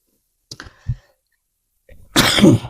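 A person sneezes once nearby, with a small sharp intake of breath beforehand, then a loud burst of air; the clip is otherwise quiet.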